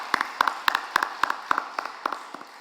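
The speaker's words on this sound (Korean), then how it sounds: "생일 맞이하신 분들 박수로 축복하겠습니다" A small church congregation claps in an even, rhythmic beat to bless members celebrating birthdays. The claps are crisp and close, keeping a regular pulse before thinning out at the end.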